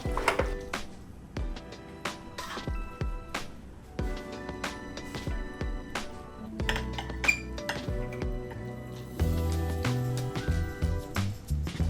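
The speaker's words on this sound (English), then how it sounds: "I'm gonna use my tongs to plate the pasta" Tongs plating pasta onto dishes, with a run of close metallic clinks, taps and scrapes against plates and cookware, irregular and bright, no talking.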